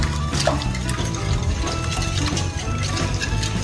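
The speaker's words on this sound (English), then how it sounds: "now I'm just going to start whisking" A whisk is worked by hand through a bowl of mixture with sugar and vanilla, making a fast, continuous clatter of wires against the bowl, close and steady.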